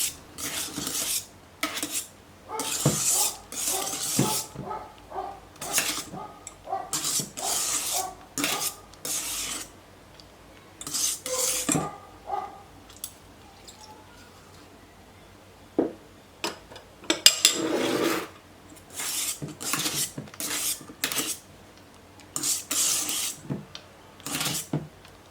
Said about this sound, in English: using whisk incorporate the gelatin in the cream cheese mixture